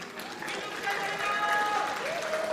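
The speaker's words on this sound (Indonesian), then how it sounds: "Boleh beri tepuk tangan yang meriah untuk kita semua?" A crowd at a public debate for Banda Aceh mayoral candidates applauds, a moderately loud, building patter of many hands, with a tonal sound running faintly through it.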